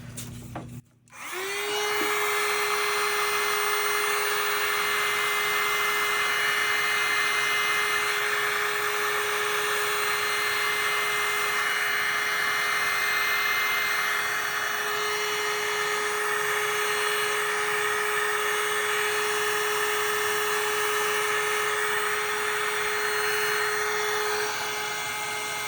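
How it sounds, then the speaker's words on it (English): A heat gun blows steadily over a resin galaxy tray after a brief click, its continuous whine and rushing airflow holding loud and even for the whole stretch. "I'm just going to grab my heat gun again."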